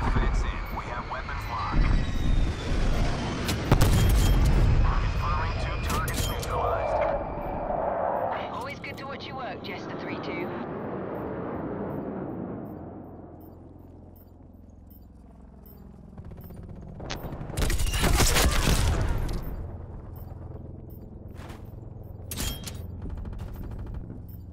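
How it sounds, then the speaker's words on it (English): A strafe run in Call of Duty: Black Ops Cold War: loud, dense bursts of rapid gunfire and booming explosions, easing into a rumbling lull before another heavy volley of blasts, with game voices over the top. "Strafe run incoming on your location."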